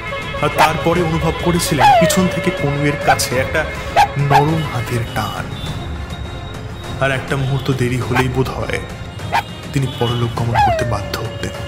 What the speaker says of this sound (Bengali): তার আগেই তিনি শুনতে পেয়েছিলেন একটা কুকুরের ঘেউ ঘেউ শব্দ